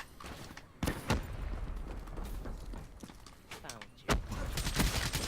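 Gunfire in Call of Duty: Black Ops 3 beta multiplayer, with two sharp, loud shots about three seconds apart over a busy bed of in-game noise, footsteps and chatter.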